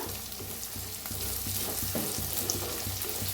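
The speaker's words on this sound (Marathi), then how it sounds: "तर असा कांदा तंबाटू चांगलं भाजून घेऊया" Onion and tomato frying in a pan, a steady hiss of sizzling with a regular rhythm of stirring strokes, close and continuous with no talk.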